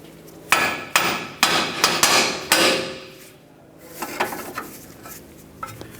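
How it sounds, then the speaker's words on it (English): Several sharp metallic hammer blows on a ball joint of a 1998-2002 Lincoln Navigator strike in quick succession, loud and close, followed by a few lighter taps after a short pause. "For this, I'll just use a hammer. We'll give it a couple loving bonks."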